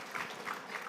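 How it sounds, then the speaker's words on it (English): Brief, soft applause from an audience thanking a panel at an Indigenous dispute resolution event, a light patter of clapping that is fairly distant and fades quickly. "Round of applause for our panel."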